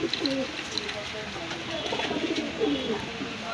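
Benaras pigeons coo in soft, repeated low calls against a steady background hum, with a few faint higher chirps mixed in throughout.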